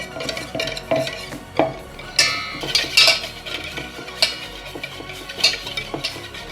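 Neer moru, spiced buttermilk, stirred with a spoon in a vessel: repeated clinking and scraping strokes against the container, uneven rhythm with sharper knocks every second or so, close and moderately loud, no talking.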